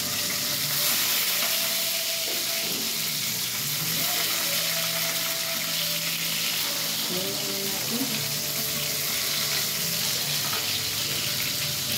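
Tilapia frying in oil in a pan for escabeche, a steady dense sizzle that holds for the whole stretch, with faint kitchen clatter and a quiet voice at times.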